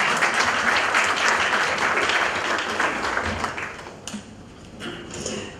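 An audience at the Life Positive Expo 2013 in Mumbai applauds in a dense, loud burst that thins out after about four seconds to scattered claps.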